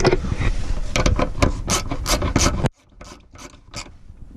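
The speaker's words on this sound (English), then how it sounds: "Get these little bolts in there. Start screwing them on." Small bolts are screwed by hand onto the carbon canister clamp of an Audi A4 2.0T, with close, quick gritty rasping turns and clicks that drop to quieter, sparse scratches partway through.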